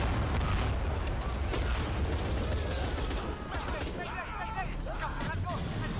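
Explosions and gunfire rumble in the video game Shadow of the Tomb Raider at a refinery, a dense continuous barrage of booms and crackling blasts, loud throughout, with a voice talking over it.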